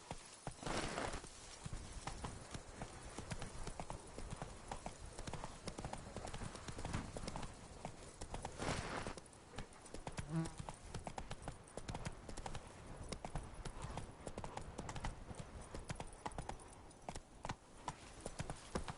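Horse hooves clip-clop steadily in a video game, with a rhythmic run of hoofbeats heard at moderate distance over a constant ambient bed, without any speech.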